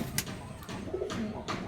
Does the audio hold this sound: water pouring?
no